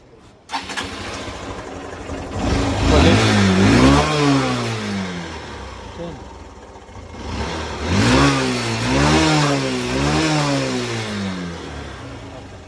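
A Bajaj Platina motorcycle, a high-mileage bike with a possible speedometer fault, starts up and revs in two loud rising-and-falling bursts, engine pitch climbing and dropping repeatedly, with no talk over it.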